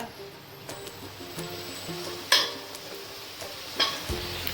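Chopped eggplant fries and sizzles in a pan for a South Indian kara kulambu while a spoon stirs it, with a steady hiss and a few sharp scraping clinks against the pan.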